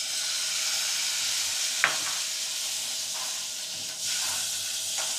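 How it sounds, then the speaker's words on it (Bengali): Stuffed bitter gourd sizzles steadily in a hot pan as tamarind water goes in, a constant bright hiss with a couple of sharp splashes and stirring clinks. "ফ্রাইটা প্রায় হয়ে গেছে। এবার একটু তেঁতুল জল দেব।"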